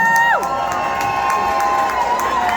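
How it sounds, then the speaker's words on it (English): A crowd at a memorial gathering cheers and whoops, with shouts rising over steady applause and a whistle-like cry near the start. "How about a nice big round of applause for the old Saddle Rack?"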